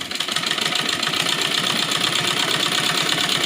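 A sewing machine stitching a Rajputi blouse runs continuously at close range, a steady rapid mechanical chatter with a low engine-like hum throughout and no talking.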